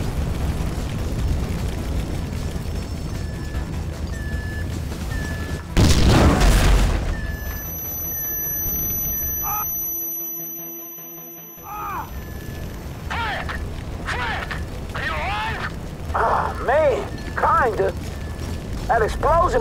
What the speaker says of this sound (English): That explosion must have knocked me out, man.